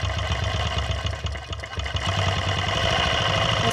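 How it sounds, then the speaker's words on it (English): Longarm quilting machine stitching a row with polyester thread, a steady close mechanical whir with a fast rhythmic chatter running throughout. "I'm just going to put on the channel lock and just stitch a row across and see what happens."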